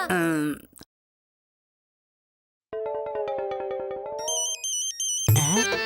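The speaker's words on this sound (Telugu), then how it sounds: "ఏరే రింగ్ టోన్ వస్తుంది?" A tonal electronic phone ringtone plays a repeating melodic pattern, loud and clear, with voices before and after it.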